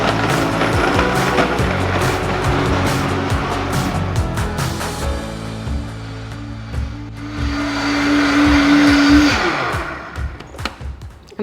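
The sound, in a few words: Vitamix blender running on soup setting, pumpkin soup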